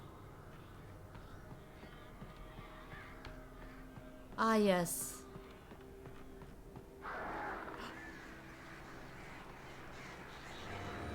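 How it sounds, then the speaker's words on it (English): Crows in the Alan Wake video game give a single loud harsh caw, followed by quieter rustling and low ambient game noise, with someone speaking briefly over the scene. "That's the crows making noises, right?"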